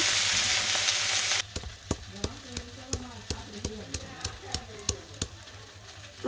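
Garlic, turmeric, chili and salt frying in oil as a spoon stirs, a loud hiss at first giving way to a quieter sizzle under repeated sharp scrapes and knocks of the utensil against the pan.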